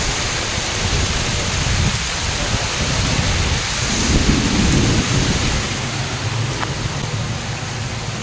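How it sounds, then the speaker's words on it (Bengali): Heavy rain pours steadily during a storm while low thunder rumbles, swelling in the middle of the clip, loud and close with no voices. "ভীষণ বৃষ্টি হচ্ছে।"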